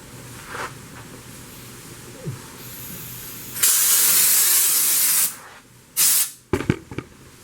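A spray gun sprays Raptor bed liner coating over rust in sustained loud hissing bursts, one long blast and a few shorter ones, with quieter gaps between them.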